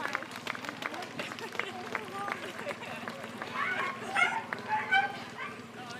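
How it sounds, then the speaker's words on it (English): A dog barks repeatedly in the distance at a women's cycling stage race in Garnich, faint yips under continuous commentary and crowd noise. "I can hear a dog barking."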